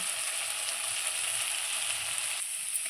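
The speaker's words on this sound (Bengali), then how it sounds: "মশলাটা লাল হয়ে গেছে ভাজতে ভাজতে" Spice paste for an elephant foot yam curry fries in oil, reddened and releasing the oil. The sizzle is loud and continuous, with no talking.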